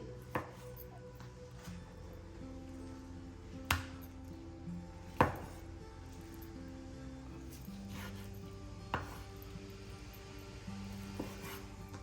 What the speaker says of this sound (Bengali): হাড়গুলো কেটে ফেলেছি, এখন মাংসটা আর কি কাটছি।